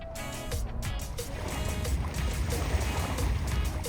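Waves washing along the seaside at Ha Long Bay in Vietnam, a steady broad rushing wash that swells and settles continuously, close by and fairly loud, with no one speaking.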